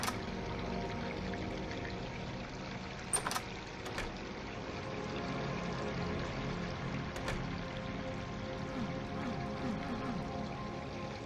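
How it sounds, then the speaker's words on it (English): A sink left running floods a house in the MyHouse.wad Doom game, giving an unbroken pouring wash of water across the whole stretch, punctuated by two or three short splash-like spikes, with no voices. "I may have left a sink running"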